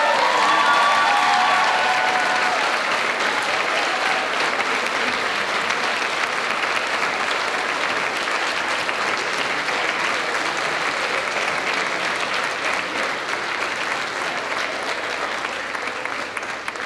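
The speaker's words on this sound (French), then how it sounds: "Mesdames et messieurs, applaudissons" Sustained audience applause at a gala evening, a dense steady roar of many hands clapping that carries on for well over fifteen seconds, close and loud, slowly easing off toward the end without any talk over it.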